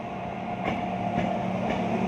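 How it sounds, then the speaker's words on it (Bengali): A coal freight train rolls into a station on a foggy morning, a steady close rumble with faint periodic wheel clacks and no voices. "এই দেখেন ট্রেন ঢুকে গেল"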